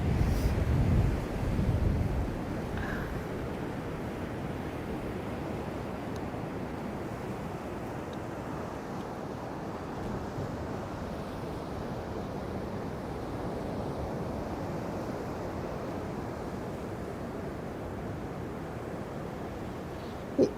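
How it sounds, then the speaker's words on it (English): Waves washing onto a beach, a steady broad roar of surf with wind buffeting the microphone, loudest in the first couple of seconds, no voices. "It's such a pretty beach"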